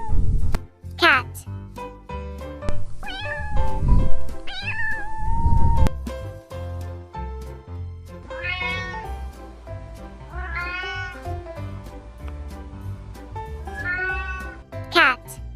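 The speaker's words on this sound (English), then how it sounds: "cat," A cat meows repeatedly and close up, with drawn-out rising and falling cries spread across the stretch, some layered over low rumbling and scattered clicks.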